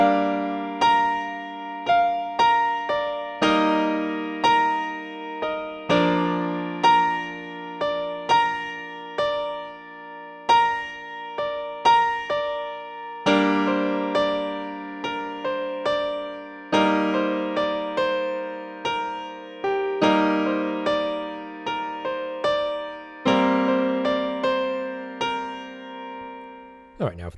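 Piano playing a song's riff slowly with both hands, a repeating right-hand melodic figure over sustained left-hand chords that change every few bars, clear and close with no talking.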